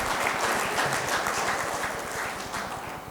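Audience applause fills a formal hall during a Kenyan Treasury address, a steady dense clapping that holds for a few seconds and slowly eases off.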